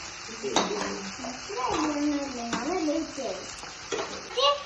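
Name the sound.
onion frying in a pan for broccoli chicken salad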